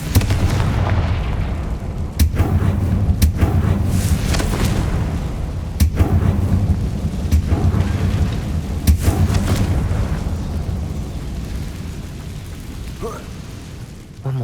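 Confringo blasting spells explode repeatedly in the Hogwarts Legacy video game, with several sharp, loud booms at irregular intervals over a continuous rumbling game soundscape that slowly fades toward the end.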